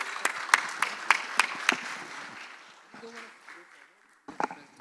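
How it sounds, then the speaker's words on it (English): Audience applause for a speaker at a wellness and healthcare business conference in Dubai, a burst of rhythmic clapping that quickly fades to quiet, with a few faint claps returning at the end. "A big round of applause to Mr."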